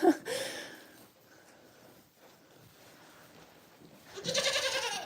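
Goats on a small home farm, including black goats, bleating loudly at the very start and again near the end, with quieter rustling and faint movement in between.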